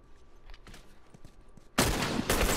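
Loud burst of rapid gunfire in The Last of Us online multiplayer erupts after a quieter stretch of scattered small clicks and thuds, continuing as a dense, sustained volley.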